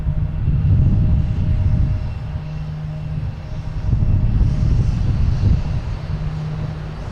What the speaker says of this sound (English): Is it just this Cape Air that's making all the racket down here?